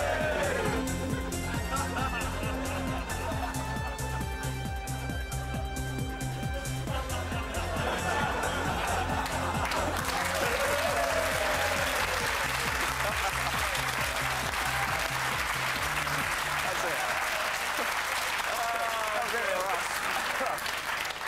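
Studio applause on a live World Cup 1998 television show, steady clapping from an audience that runs the full length alongside music and voices, first under a tonal musical bed and later as a broader wash of crowd noise.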